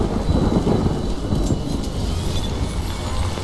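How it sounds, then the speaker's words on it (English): Heavy rain pours steadily in the Death Stranding game world, a dense, loud wash of drops with a deep rumble of thunder underneath and no voices. "Good thing it was raining."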